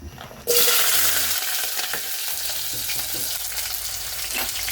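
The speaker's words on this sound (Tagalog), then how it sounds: "mainit na yung mantika. Ilalagay ko itong mga sangkap." Milkfish innards and other ingredients drop into hot oil and burst into a loud, steady sizzle. The frying holds strong and continuous with light stirring scrapes, and no talk is heard.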